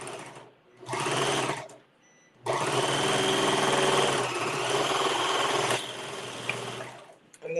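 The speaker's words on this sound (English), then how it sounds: "I'm going to run this through now my serger again." A serger overlock sewing machine stitches bikini fabric in loud, close bursts of rapid mechanical whirring, with two short runs and then one long continuous run separated by brief silences.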